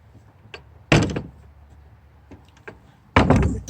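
A door thuds shut twice with sharp slams and a brief rattle and click of the lock between, close by in a quiet room of an old cabin at a historic village.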